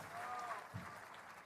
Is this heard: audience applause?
yes